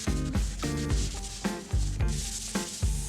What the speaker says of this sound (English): then repeat that smooth sanding.